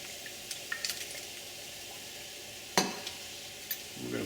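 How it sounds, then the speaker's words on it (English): Oil heats in a pan for palak paneer, giving a faint, soft sizzle broken by a few sharp clinks and taps of a utensil, with a brief louder knock partway through. "Heat the oil up."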